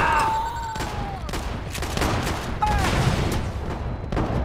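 Shotgun blasts in a team-based online shooter video game, a rapid irregular string of loud, close bangs repeating throughout, with announcer-style game voice cues in the mix.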